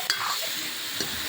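Masala frying and being stirred in a pan over a wood-fired clay stove, a steady close sizzle with scraping stir sounds and no voices, lasting just over a second.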